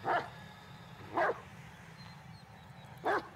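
Dog barking in the horror video game Blair Witch: three short, sharp barks spaced about a second apart, moderately near, over a low steady background hum with no talk.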